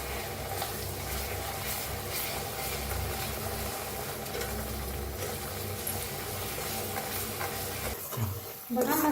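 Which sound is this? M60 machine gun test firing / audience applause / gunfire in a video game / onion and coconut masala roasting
onion and coconut masala roasting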